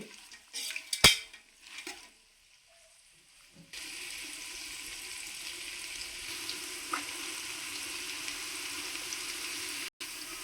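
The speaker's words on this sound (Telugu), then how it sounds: "ఈ ఉల్లిపాయ ముక్కలు బాగా దోరగా వేయించుకోవాలి" Onion pieces frying in a pan for chicken pulao: a few sharp clatters of a utensil against the pan early on, then after a brief lull a steady, even sizzle that runs on without a break.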